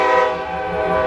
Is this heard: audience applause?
no